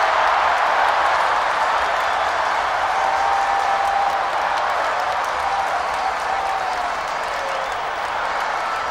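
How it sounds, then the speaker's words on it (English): A crowd cheers and applauds wildly, a broad continuous roar of clapping and voices that holds steady at a moderate distance throughout. "And the crowd are going absolutely wild."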